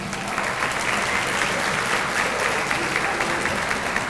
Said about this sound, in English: Let's give another round of applause for our sponsors.